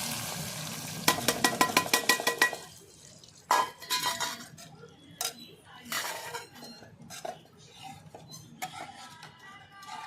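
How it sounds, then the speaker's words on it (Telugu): Dal being tempered, spices frying in a pan, with clinks of metal utensils and pot sounds over a soft sizzle in a home kitchen; the clatter comes in quick bursts, loud up close, with some brief talk. "పప్పుకైతే తాలింపు వేద్దాం అనుకుంటున్నాను"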